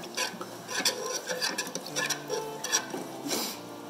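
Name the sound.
stirring water for natural egg dye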